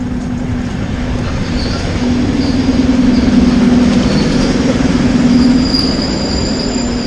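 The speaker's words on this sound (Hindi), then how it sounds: "ये शायद एक लोकल ट्रेन है, ओम्स से कहीं आती जाती होगी" Loud rumbling of a local passenger train moving slowly along the tracks at Omsk station, Russia, wheels squealing with a sustained metallic whine and faint clacking, close by.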